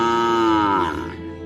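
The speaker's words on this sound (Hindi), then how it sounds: "ये कपिला तो रंभाते ही जा रही है" A cartoon cow lets out one long, loud moo that holds steady and then slides downward and fades, alone without any talk, set in an animated story where the cow is frightened by an approaching Royal Bengal tiger.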